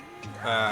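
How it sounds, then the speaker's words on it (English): Short, close cow moo from the video game West of Loathing, a single low bellow that rises in pitch and swells before cutting off. "it's a cow."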